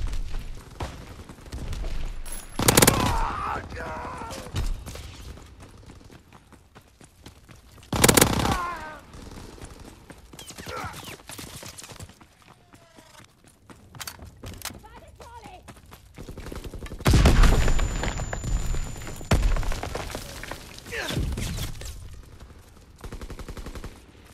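Bursts of Tommy Gun fire from the M1928 in Call of Duty WW2, with loud volleys around the 3, 8 and 17 second marks and busy battle noise in between, under in-game action.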